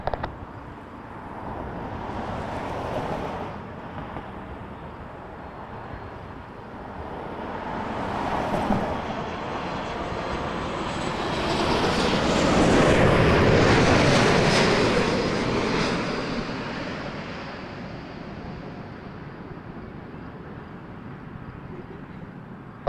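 A plane takes off from runway 05 at Toronto Pearson at night, its engine roar building from a distant rumble to a loud broad swell around the middle, then slowly fading.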